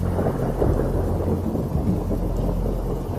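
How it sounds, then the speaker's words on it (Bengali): Steady, unbroken rain with rolling thunder, a dense low rumble under the constant hiss of falling water, sustained throughout with no voices. "বাইরে তখনও এক নাগাড়ে বৃষ্টি হয়েই চলেছে"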